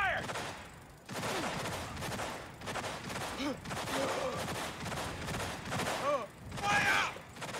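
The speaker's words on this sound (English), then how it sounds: "Shots fired!" Gunfire in the video game Cyberpunk 2077: dense, sustained automatic fire rattles almost without a break, loud and close, with brief gaps and mechanical clanks, while game voices call out over it.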